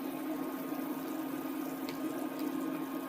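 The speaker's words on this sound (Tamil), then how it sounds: "குழம்பு கொதிச்சிருச்சு." Kuzhambu curry with prawns simmering in a covered pot on the stove, giving a steady, even hiss of bubbling with no pauses, close and moderately loud.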